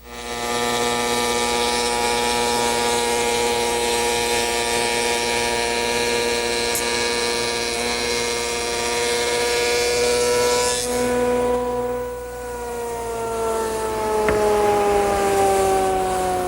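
A wood shaper with a large cutter, run at reduced speed, cuts tapered cabinet panels, giving a loud, steady, close whine. Near the end the pitch sags and winds down as the cut finishes.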